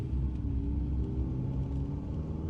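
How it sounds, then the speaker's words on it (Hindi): A car engine rumbles steadily as the vehicle pulls away toward home, a low continuous motor drone heard close and alone with no voices over it. "घर की ओर गाड़ी लेके निकल पड़ा।"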